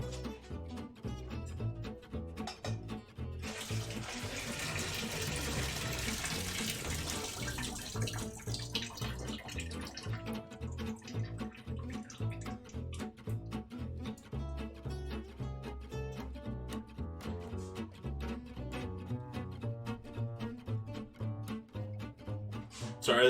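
Water poured off cooked potatoes through the gap of a held pot lid, a steady splashing gush into a sink that runs on for about twenty seconds, no voices.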